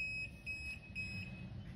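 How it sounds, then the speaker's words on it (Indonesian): A kWh meter's overload-protection buzzer gives a faint, steady high tone pulsing in short repeated beeps about every quarter second over a low background hum, with no speech. "ada indikasi buzzer menyala barusan"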